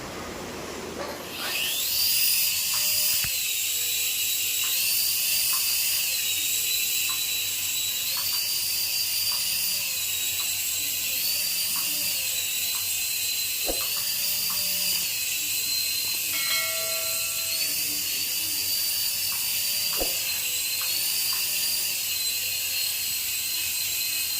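A small battery-powered remote-control toy helicopter spins up and runs with a steady, high-pitched motor whine and rotor buzz, close and continuous, with faint clicks and no talking.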